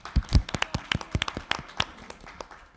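A few people clapping at a city council meeting, sparse and irregular claps that start with some loud hits and then thin out into scattered, fading ones.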